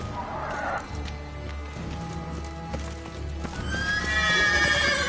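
Roach, the horse in The Witcher 3 video game, gives a whinny near the start, then hooves clip-clop in a steady galloping rhythm, with a brighter rising neigh late in the run; no speech.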